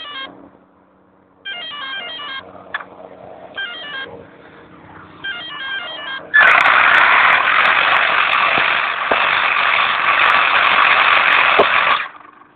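A fast electric RC car races around a room, its motor rising into a loud, steady high-pitched whine after some intermittent beeping tones at the start, then cutting off abruptly near the end.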